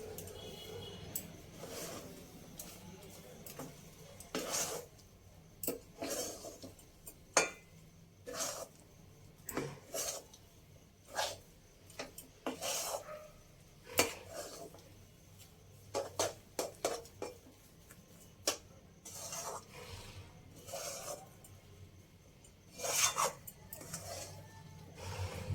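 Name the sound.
stirring chana dal halwa after adding milk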